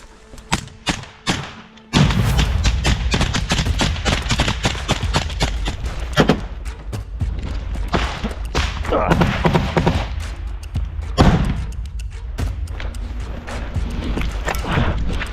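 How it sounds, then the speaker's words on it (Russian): A hand grenade goes off inside a building during a house-clearing assault, a sudden heavy blast at about two seconds followed by sustained loud rumbling and crackling debris, after several sharp thumps and brief shouts. "Граната!"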